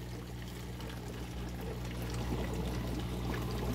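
Compost tea sample from a brewing system is poured into a plastic bottle, a steady close-up splashing trickle that grows slightly fuller as the bottle fills, with no talking.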